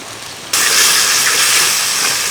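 Chopped tomatoes hitting a hot pan of ginger-garlic paste while cooking breadfruit sukka, a loud steady hiss of sizzling that starts suddenly after a brief quiet moment and keeps going.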